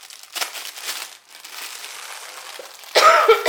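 Short burst of coughing near the end of a quiet indoor stretch, loud and close against faint crinkling of Christmas decorations and branches being sorted.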